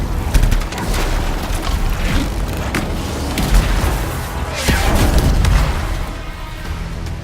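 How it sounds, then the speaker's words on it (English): Grenade blasts and combat fire in the Anthem video game, a dense barrage of loud booms and bursts rumbling continuously over several seconds, close and heavy. "I threw my grenade at him."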